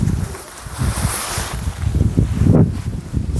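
Strong gusts of wind buffet an open campsite at night beside a freshly pitched tent, a rough, rushing roar that swells and drops continuously, with no voices.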